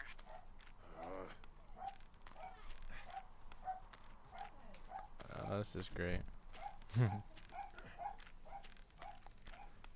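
A dog in the room barks in a steady run of short, sharp yaps, fairly faint and regular, under someone talking.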